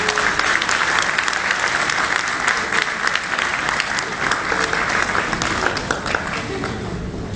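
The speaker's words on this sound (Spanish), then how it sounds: "Démosle un fuerte aplauso." Sustained applause from a conference audience at a university business forum, dense and steady for the whole stretch, filling the room without pause.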